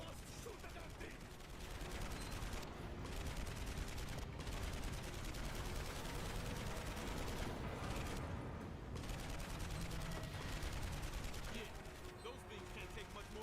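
Rapid turret gunfire during a rail cart section of a video game, a dense, continuous stream of shots with booms and mechanical noise that runs loud and unbroken throughout.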